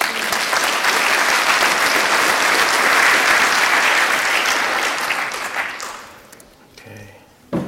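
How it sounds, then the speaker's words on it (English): Loud, dense applause from a conference audience for keynote speaker Steve Lord at an AppSec security event, sustained for about six seconds before dying away, then a brief voice near the end. "But give him a warm applause"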